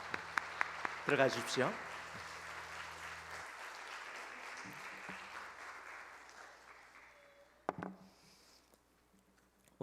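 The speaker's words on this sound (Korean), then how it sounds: "다시 한번 큰 박수 주시기 바랍니다." Congregation applause in a Korean church Sunday service, a broad wash of clapping through the first few seconds that fades and thins, with a voice speaking over it near the end.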